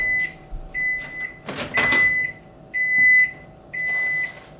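A microwave oven cooking egg whites finishes with a series of loud, evenly spaced electronic beeps and a door clunk in a quiet kitchen.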